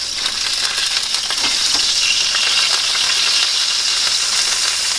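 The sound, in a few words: burger sizzling while frying in a pan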